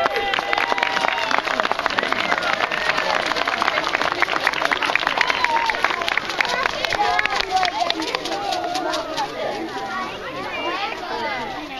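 Applause from an audience at a county supervisors' meeting, steady dense clapping filling the room with some children's voices and crowd murmur mixed in.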